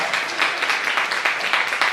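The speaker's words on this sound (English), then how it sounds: "you can applaud" Audience applause during a storytelling performance: steady, fairly close clapping from a crowd, even and sustained without pause.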